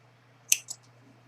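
Scissors snipping through crochet yarn after a dishcloth edge: two quick, crisp close-up clicks, the first sharper and louder, over a quiet background hum.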